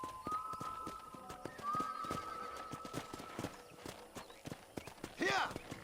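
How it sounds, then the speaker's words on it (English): Hoofbeats of a ridden horse in the video game Red Dead Redemption thud in a steady rhythmic gallop, loud and close, with a sustained whistle-like tone early on and a brief chirp near the end. "let's see if you can still ride a horse."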